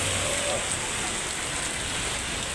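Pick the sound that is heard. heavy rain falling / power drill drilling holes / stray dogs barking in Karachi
heavy rain falling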